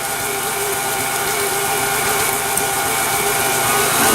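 A stand mixer beats Christmas cookie dough, a steady, even motor whir that holds at one level for several seconds, close and alone.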